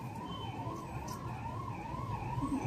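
A police car siren wails from a distance in an Indian residential neighborhood, its pitch rising and falling in a smooth, repeating cycle, moderately faint and steady throughout.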